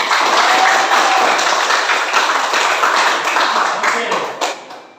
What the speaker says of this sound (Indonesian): Sekali lagi tepuk tangan yang meriah.